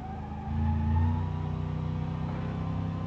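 Cars in the BeamNG.drive driving game rev and accelerate nearby, a steady mid-low engine drone that swells after half a second and then holds, with no voices over it.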